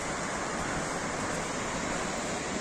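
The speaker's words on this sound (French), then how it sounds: "La belle cascade de Gobe." The Cascade de Gaube waterfall in the Pyrenees, a dense, steady roar of falling water, loud and close, with no other sounds.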